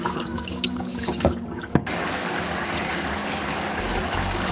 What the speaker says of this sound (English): you're going to stir it and pour out the water like this until it's very clear